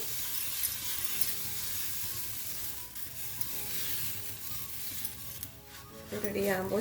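String parotta (nool parotta) batter sizzling on a hot pan, a steady broadband hiss running throughout at moderate level, with faint background voice and a brief clink of utensils near the end.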